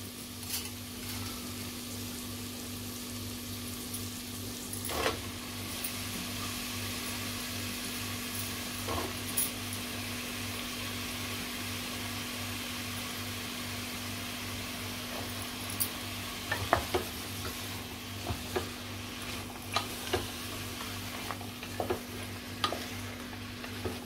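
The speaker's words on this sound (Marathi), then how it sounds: "आता दुधी घालूया।" Chunks of bottle gourd (dudhi) sizzle steadily in a hot pan of chana dal curry, with occasional clinks and scrapes of a stirring spoon over a constant low hum; no one speaks.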